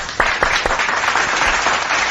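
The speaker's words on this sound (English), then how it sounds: "give it a round of applause to the viewers" Applause of a crowd at the close of a Halloween-night game stream: a steady wash of many hands clapping, fairly loud and unbroken for about two seconds, with a few sharper individual claps standing out.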